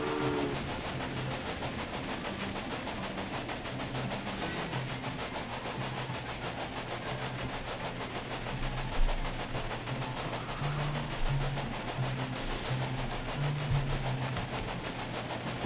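Steady rumbling rail noise with a low engine drone from a train running in the railway management game Railway Empire, continuous and moderately loud with no talk.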